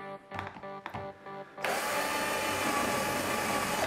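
A power drill bores five holes through a garden pot on a patio, first in short whirring bursts, then one loud steady grinding run close by.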